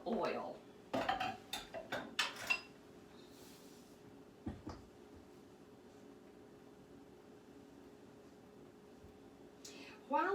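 Cake batter of sugar, eggs, vanilla and oil for an apple dapple bundt cake is stirred in a bowl, with a burst of clinking, scraping utensil strokes at the start, a long quiet stretch, then more clatter at the end.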